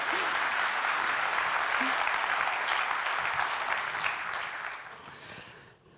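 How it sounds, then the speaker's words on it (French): Applause from a conference audience at a keynote event, dense steady clapping that fills the room and then thins out and fades over the last second. "donc un grand applaudissement"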